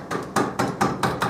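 Sharp hammer blows driving a wheel bearing out of a motorcycle wheel in a garage workshop, five distinct metallic strikes at a steady rhythm, close and loud with nobody talking.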